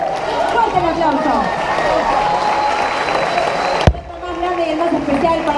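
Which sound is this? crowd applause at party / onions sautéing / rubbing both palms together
crowd applause at party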